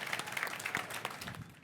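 Applause in a studio setting for a band, a fairly quiet, close patter of individual claps with distinct hand strikes, sustained throughout and tapering near the end.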